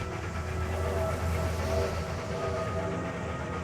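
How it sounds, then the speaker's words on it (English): A train rolls through a large urban rail yard, heard as a steady, continuous rumble and rolling clatter at moderate loudness, unbroken from start to finish. "The dream train, chugging"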